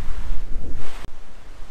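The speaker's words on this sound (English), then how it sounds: "It's so windy, it's so sunny" Strong wind buffeting the microphone in loud, uneven gusts at a sunny beach, with a faint wash of surf beneath.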